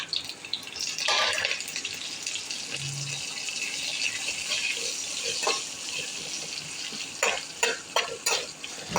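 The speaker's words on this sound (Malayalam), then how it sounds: "ഇത് ചേർത്ത് കൊടുത്ത് നമുക്ക് നന്നായിട്ടൊന്ന് വഴറ്റിയെടുക്കാം" Ring-cut onions sauté in a pan for tomato curry, a close sizzle with bursts of scraping and stirring, some louder clattering strokes near the end.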